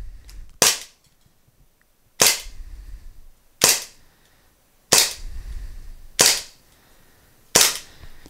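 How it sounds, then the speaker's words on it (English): An Umarex TR50 air rifle fires six shots at about 15 feet, each a sharp, loud crack spaced roughly a second and a half apart, with quiet between the shots and no voices. "so this is six rounds from 15 feet away"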